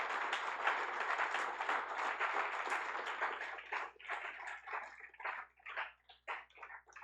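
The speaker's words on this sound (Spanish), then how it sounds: "Denle fuerte el aplauso al Señor" A church congregation claps loudly and densely, then the applause thins into scattered, irregular claps that trail off toward the end.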